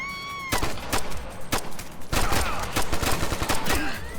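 Gunfire in the video game Ghost Recon Future Soldier during an on-rails shooting sequence, loud bursts and sharp repeated shots with automatic fire, close and dense over several seconds.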